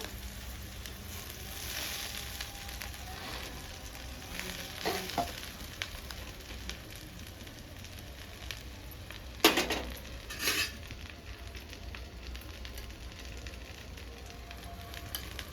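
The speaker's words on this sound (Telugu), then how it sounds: "ఇదే బాండీలో గోంగూర వేసి ఫ్రై చేసుకోవాలి" Gongura leaves fry in a karahi with a steady, soft sizzle, and occasional utensil clinks and scrapes sound against the pan. Two sharper metallic knocks ring out near the end.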